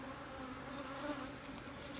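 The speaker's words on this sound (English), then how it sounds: "Settle down, bees." Honeybees hum in a steady, close, low drone as a hive is opened and split, a continuous buzz with no voices over it.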